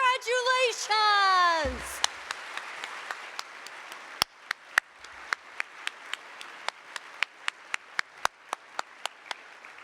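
Audience at a state governor's scholar ceremony giving a round of applause to honored scholars, entering after a brief musical fanfare and settling into a steady scattered clapping with sharp individual claps standing out.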